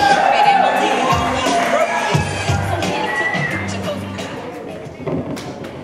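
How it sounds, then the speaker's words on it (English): A bar mitzvah crowd claps and cheers for Josh during a candle-lighting ceremony, a loud burst of mixed clapping, whoops and thuds that gradually tapers off, with voices mingled in. "applause for Josh"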